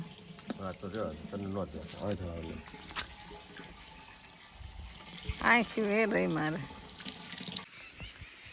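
Water runs from a hose broken in several places, splashing steadily throughout as it fills drinking water, with a person talking over it in bursts.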